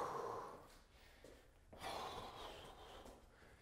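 Heavy, audible breaths follow a round of boxing combos on a heavy bag, a couple of long exhales and a sharp intake, faint and close with a soft room hiss behind.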